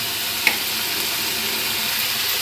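Hot water added to a spiced potato curry in a hot pan, a short click followed by a steady, close, loud hissing sizzle that holds for a couple of seconds.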